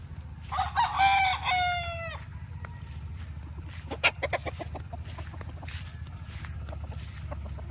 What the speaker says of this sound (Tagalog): Ang ganda ng mga manok